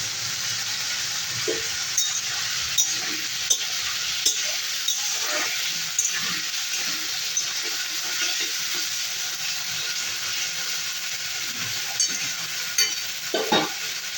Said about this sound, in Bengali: অল্প সামান্য লবণ দিয়ে আলুটা ভেজে নেব